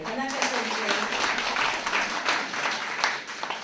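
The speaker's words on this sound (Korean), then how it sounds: "여러분들 그런 면에서 한번 박수로 보내주세요" Audience applause for Tanaka, a teacher in his eighties, at a consumer-movement gathering, a steady dense patter of clapping lasting the whole stretch with voices mixed in underneath.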